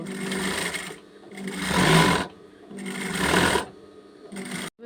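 A sewing machine stitching a girl's dress, running in loud steady bursts with short pauses between them, close by and alone.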